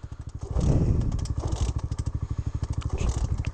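A motorcycle on a Mid Devon green lane being kick-started: after a few scraping kicks the engine catches and runs with a rapid, steady pulsing putter, loud and close, then keeps chugging unevenly.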